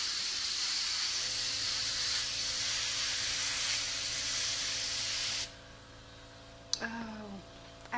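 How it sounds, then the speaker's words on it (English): An airbrush sprays a continuous loud hiss for about five seconds, then cuts out and sputters with a few short irregular bursts, close up with no talking. "I love when my airbrush decides to act crazy and doesn't want to work while I'm doing this live."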